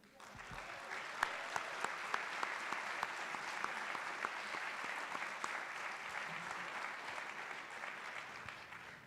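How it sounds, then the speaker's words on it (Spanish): Sustained audience applause at a business innovation panel event, steady dense clapping from a sizeable crowd throughout with no speech over it. "Un aplauso para Juan Pablo Laquiaga."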